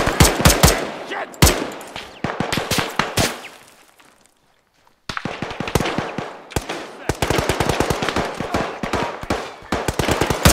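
Rapid, loud bursts of machine gun fire in Arma 3, dense automatic volleys with sharp individual shots, a brief quiet gap midway, then sustained heavy firing resuming.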